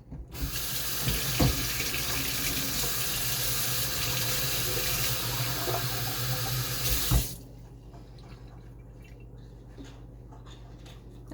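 A kitchen tap runs at full flow for about seven seconds, filling bowls with a steady splashing rush, then shuts off abruptly, leaving quiet room tone and faint drips.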